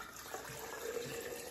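Water pours steadily into a container to cover eggs being preserved, a soft continuous filling rush close by with no talk.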